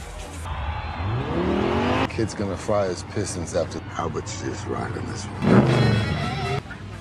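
Race cars speed through a street race in the 2015 film Fast & Furious 7, with loud engine roars and squealing tires while a voice talks over much of it.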